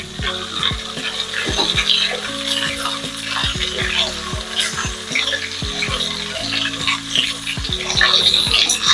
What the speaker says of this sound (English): I'll fry this for about 10 minutes before introducing my pepper mixture.